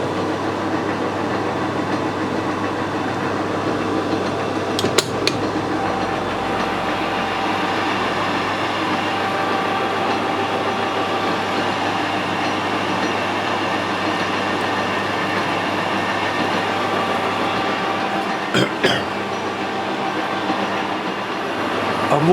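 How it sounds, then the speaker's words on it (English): A lathe takes a light cut along a shaft with a high speed steel tool, fitted with a travelling steady. It gives a continuous, even mechanical drone with a faint whine and two brief clicks, and no one talks. "I've moved the whole setup along to the centre of the shaft, and you can see it's still machining quite nicely."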